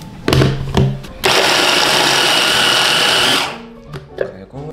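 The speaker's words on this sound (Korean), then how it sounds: "그래서 갈아줍니다." Food processor blades whir loudly and steadily for about two seconds as they grind scallops into a paste for steamed seafood dumplings, with brief clunks and handling sounds around the burst.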